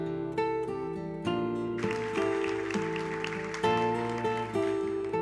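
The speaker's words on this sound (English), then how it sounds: "Give yourselves a round of applause." An audience applauds at a conference plenary session, with sustained clapping throughout. Loud, layered piano-like music plays over it, and there is no talking.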